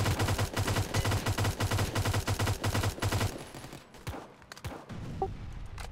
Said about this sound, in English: Why is the recoil on the MP5 so shaky?